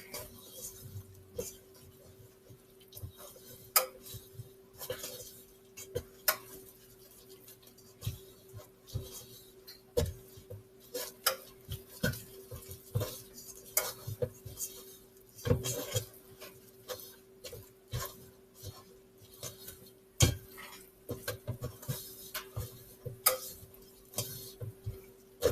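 Peanut butter brownie batter being mixed by hand in a bowl, with soft irregular clinks and ticks of a utensil against the bowl repeating steadily at close range, no voices.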